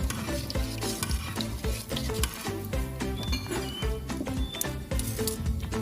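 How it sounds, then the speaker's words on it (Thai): Meatballs fry in oil over very low heat while being stirred steadily, a dense, close, continuous sizzle with scraping and bubbling from start to finish. "พยายามคนเขาเรื่อยๆนะคะ"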